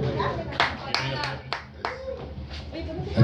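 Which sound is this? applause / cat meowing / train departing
applause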